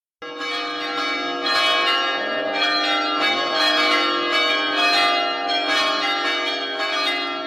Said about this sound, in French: Les cloches résonnaient alors que le curé terminait la messe